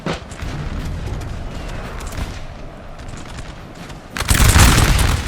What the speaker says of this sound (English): You can see the Danish artillery, yeah, is absolutely blasting the Royal Fusiliers here.